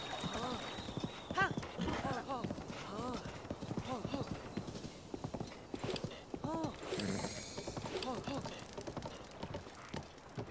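Horse hooves clip-clop at a steady galloping rhythm in Zelda: Breath of the Wild, loud and close with game music and effects, while a person talks over it throughout.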